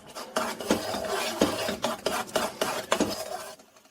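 A spoon stirs cooled sugar syrup for caramel color, scraping and clinking against the pot in a steady rhythm of about a dozen strokes, close and fairly loud, with no talk.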